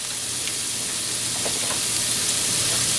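Diced onion sizzles and fries in a pan, a steady bright crackling hiss with a few soft stirring scrapes.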